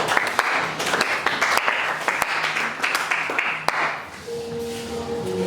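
A church congregation applauds for the Lord during a teaching service, steady dense clapping filling the space before tapering off near the end, with brief voices and a held tone emerging underneath.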